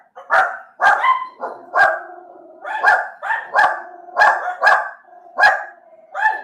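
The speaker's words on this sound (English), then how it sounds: "That's our dogs. They hear something." Dogs barking at something they hear: around ten loud, close barks in an uneven rhythm, each one ringing briefly, with no talking over them.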